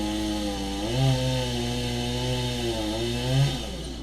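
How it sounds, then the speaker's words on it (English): A chainsaw cuts through dead wood, its engine droning close and loud, revving up twice as the blade bites and easing back between cuts. "That's a chainsaw."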